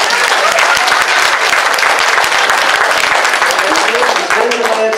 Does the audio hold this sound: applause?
yes